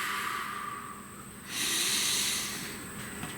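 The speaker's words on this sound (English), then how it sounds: "Please take a nice deep breath." A single slow breath is drawn in softly and then let out in a louder, airy exhale, close and breathy against a quiet background.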